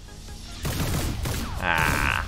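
Gunfire from a Lancer soldier in XCOM 2, a loud close burst of shots followed by a ringing, tonal whine, with no talking over it.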